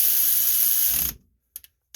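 Bolts on the ignition coil of a 25 hp John Deere riding lawn mower are tightened down with a ratchet, a steady close ratcheting whir lasting about a second, then a couple of faint clicks.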